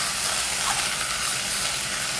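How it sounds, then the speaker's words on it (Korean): Diced potatoes and leeks sautéing in a pot, a steady, even sizzle and hiss with no breaks, close and fairly loud with no talking. "대파보다 감자가 더 양이 많게 하셔서 볶아주세요."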